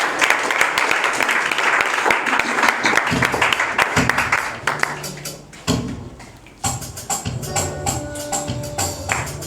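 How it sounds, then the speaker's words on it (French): A congregation at a midweek church worship service in Treichville clapping hands, a dense rapid burst of applause that thins out into scattered sharper claps, with voices and singing mixed in underneath. "On bat les mains."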